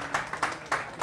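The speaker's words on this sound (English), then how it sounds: "Let's give a round of applause." Moderate clapping from a show audience welcoming a volunteer on stage, distinct claps in an uneven rhythm over a soft room murmur.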